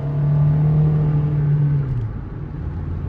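Steady engine rumble from a car on the road, heard from inside while driving after a misfire repair, holding a constant low drone that eases slightly partway through; no talking.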